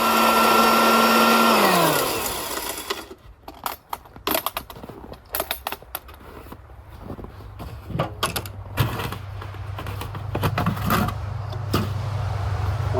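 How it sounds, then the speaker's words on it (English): An electric feed grinder milling no-soy chicken feed, a loud steady motor whine that winds down after two seconds, then irregular clattering and rattling of grain and parts before a low hum builds again. "the feed swirls around in the hopper and goes down that channel into the grinder blades itself, through the grate"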